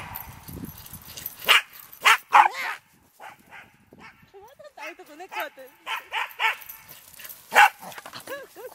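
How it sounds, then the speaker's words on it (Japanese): A Brittany dog barks in sharp, uneven bursts while chasing during outdoor play, with a few yips between, as people talk and laugh close by. "こいつね、これ追っかけるときに吠えたいみたいね。"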